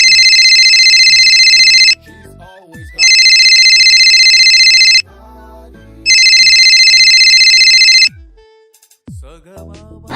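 A phone ringtone sounds loud and close in three long bursts separated by short pauses, with voices and other faint sounds in the gaps.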